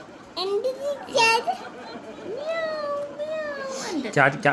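A cat meows several times, long drawn-out cries up close, with a voice chattering in between.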